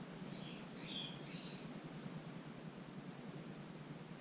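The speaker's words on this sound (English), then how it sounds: "I guess you can hear all the birds." Morning birds calling outdoors, a few brief chirps and squawks early on, faint and distant over a steady background hiss.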